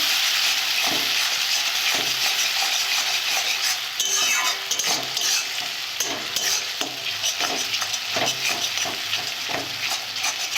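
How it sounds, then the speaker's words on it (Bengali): Spice masala for a fish curry fries and sizzles in a pan with a splash of water, a loud steady hiss broken by repeated scraping and clinking strokes of a spoon stirring close up. "অল্প করে জল দেবো মিক্স করে নেব মশলাটা ভালোভাবে তৈরি করে নেব"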